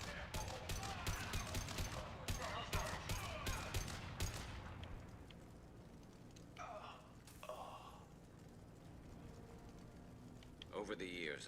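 Dense, rapid bursts of gunfire from Blue Suns mercenaries and Vorcha in a Mass Effect firefight crackle loudly for about four seconds, then give way to quieter combat ambience with scattered sharp effects.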